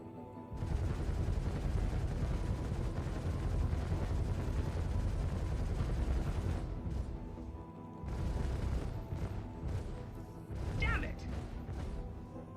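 Sustained rapid spaceship weapons fire and impacts from the video game Star Citizen, a dense loud barrage for several seconds, a brief pause, then more bursts with crashes and a few higher sweeping tones.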